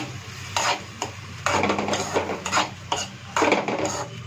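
Chopped capsicum is stirred in hot oil in a pan with a metal spatula, making a string of close, scraping clatters in irregular bursts, with no speech.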